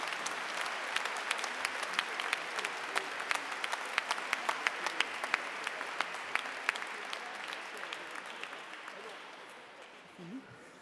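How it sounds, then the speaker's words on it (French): Congregation applauding at the close of a Mass on the seventh Sunday of Easter, a sustained dense round of clapping with sharp individual claps on top that slowly tapers off near the end. "Applaudissez pour vous-même."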